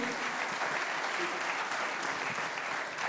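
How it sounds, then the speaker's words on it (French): Steady audience applause at a trophy presentation for industry award winners, a dense even wash of clapping from a seated crowd sustained throughout, moderately loud with no talk over it. "vous allez pouvoir remettre le trophée à nos lauréats sous les applaudissements de notre public"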